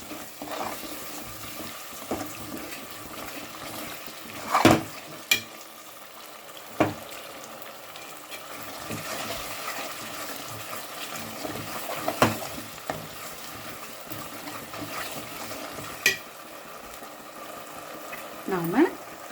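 Carrot and khoa halwa cooks in ghee in a pan, giving a soft continuous sizzle with occasional scraping stir strokes and louder clanks from a spoon against the vessel.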